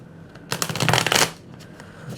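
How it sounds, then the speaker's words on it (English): A deck of tarot cards being shuffled during a reading, a close, crisp riffling burst lasting under a second amid otherwise quiet surroundings. "we're going to shuffle one more time"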